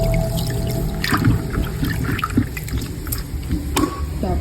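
Salted water is poured for a bathing ritual, giving close, loud liquid splashing and trickling with irregular bursts of pouring.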